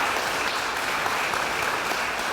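An audience at a wastewater treatment plant upgrade ribbon cutting claps in steady, dense applause, close and loud throughout.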